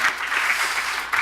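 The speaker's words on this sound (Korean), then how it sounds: "박수를 한번 하나님께 영광 드리겠습니다." Applause from a church congregation at a revival meeting, a brief, even spatter of many hands clapping at close range, swelling slightly at the end, with no talk.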